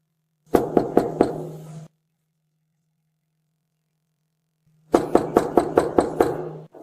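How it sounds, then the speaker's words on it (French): Knuckles rap on an apartment door in two bursts, first four sharp knocks and then, after a pause of a few seconds, six or seven more. The knocking is close, loud and clear, and no voices are heard. "a frappé à la porte, tentant de communiquer calmement avec elle"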